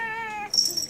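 Pet cat Mr. Jingles gives one drawn-out, tonal meow, followed by a brief, brighter squeaky cry at close range.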